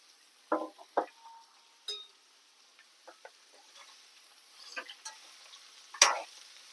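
Ridge gourd fry being stirred in a pan: soft, scattered scraping strokes with light sizzling between them, quiet and close, no talking.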